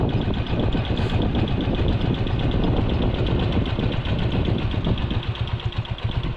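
Motorcycle engines idle steadily on a street flooded by Typhoon Carina and monsoon rains, a dense, continuous rumble that stays loud and close throughout without pause.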